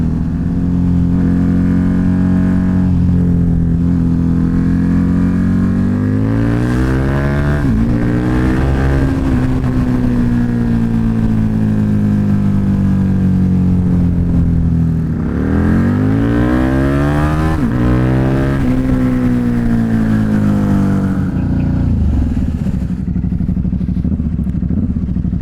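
A KTM RC8-R motorcycle engine revving hard to redline, loud and close, with repeated long rising and falling revs that climb to a high strained pitch.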